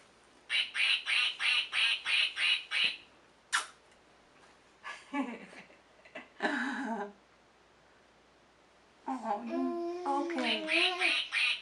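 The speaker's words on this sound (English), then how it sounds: "That's a duck." A toy duck quacks in a quick run of eight even squawks, then in short bursts, with a person speaking briefly between them, close and clear indoors.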